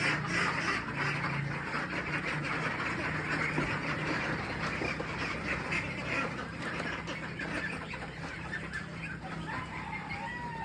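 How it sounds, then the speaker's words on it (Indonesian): Thirteen-day-old ducklings on a duck farm, a dense continuous chorus of quacking and peeping from many birds at once, fairly loud and steady with no talk. "selanjutnya saya akan memberikan makan para bebek yang tak sabaran ini"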